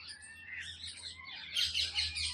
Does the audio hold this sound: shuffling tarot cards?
no